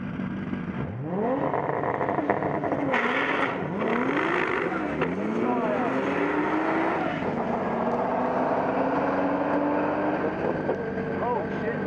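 A Toyota Supra engine revs repeatedly through its exhaust, its pitch sweeping up and dropping back in several loud, rising bursts, with a steady engine drone between them.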